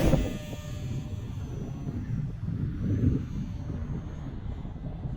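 A TOP RC Hobby SpitFire 450mm RC warbird model plane flies outdoors on a windy day, its faint electric motor drone blending into steady low wind rumble throughout, with no one talking.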